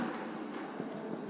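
Marker or chalk scratching across a classroom board during a matrices lecture, a short continuous scraping stroke, close and steady with no pauses.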